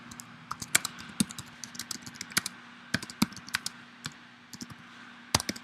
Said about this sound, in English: if you have any other requests, you can just type it there